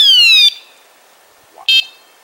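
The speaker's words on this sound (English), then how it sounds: "You just barely touch it and it goes nuts." A vibration detector alarm used at a cemetery lets out a loud electronic warble for about half a second, then falls silent, then gives a second short burst when it is touched again.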